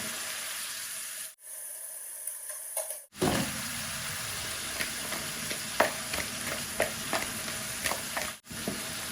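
Yogurt-and-salt-marinated fish fries in a pot, a steady hissing sizzle broken by a few short silent gaps, with scattered close spatters and clicks of stirring throughout.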